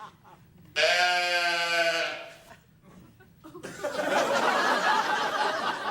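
A sheep lets out a long, wavering bleat, followed by a noisier, breathy stretch of sound; close and fairly loud.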